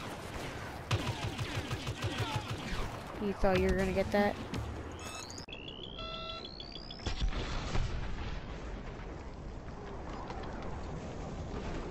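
Pulse cannon blasts and gunfire in a Star Wars Battlefront match, rattling bursts, booms and rising electronic whines, with a person talking over the action.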